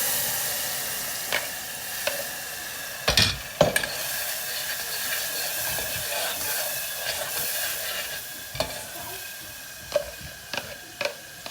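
Gravy is poured into a sizzling pan of cumin, asafoetida and fenugreek spice mix, giving a steady frying hiss broken by several sharp spattering pops and utensil clinks.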